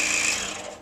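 A saw blade cuts smoothly and steadily into a wooden blank while drilling an entry hole, giving a continuous bright whirring buzz that fades slightly toward the end of the short cut, with no talking.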